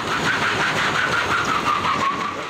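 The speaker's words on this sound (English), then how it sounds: "a South Metro Fire Rescue pickup truck was used to pull the burning electric vehicle out of the garage and onto the driveway" A fire rescue pickup truck's engine runs and strains with a steady mid-pitched drone while pulling a burning electric vehicle out of a garage onto a driveway, heard close and continuous without talk.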